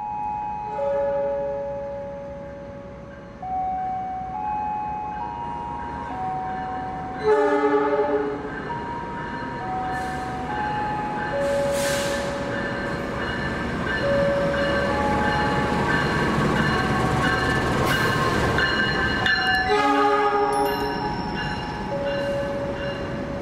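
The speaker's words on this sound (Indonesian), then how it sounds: "Yang baru masuk ini adalah kereta api Cakrabuana dari stasiun Gambir" The Cakrabuana passenger train from Gambir rumbles into a station in Cirebon, with steady low rolling noise, squealing wheels and a few horn-like tones rising and falling over about twenty seconds.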